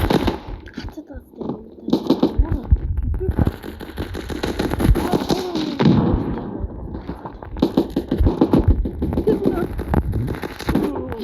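Standoff 2 video game gunfire cracks in dense, repeated bursts through the whole stretch, loud and close, mixed with other game noise and voices.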